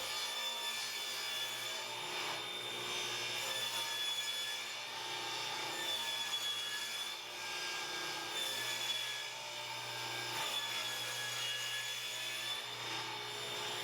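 A saw cuts steadily through a wooden board for a jig, giving a continuous, even rasping and whirring with slight swells over about fourteen seconds, fairly quiet and heard alone with no voices.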